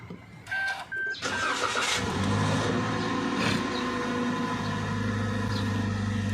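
A car engine is started with a few short beeps and cranking, then settles into a steady, even idle close by as it warms up.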